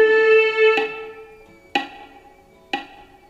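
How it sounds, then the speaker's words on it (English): A single sustained quarter note rings out over metronome clicks, then decays while three more sharp, evenly spaced clicks follow alone. "And the quarter note sounds like this."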